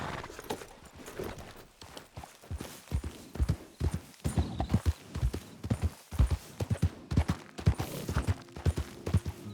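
Horse hooves clip-clop in the Red Dead Redemption 2 video game. The footfalls start slow and then quicken into a brisk, steady trot of close, distinct thuds, with faint jingling tack.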